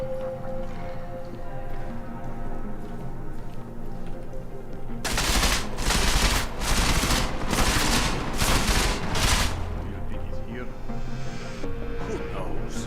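Tactical shotgun fire in Deus Ex: Mankind Divided comes as a series of heavy, rapid blasts packed into a few seconds, loud and close, over steady game music and ambience before and after.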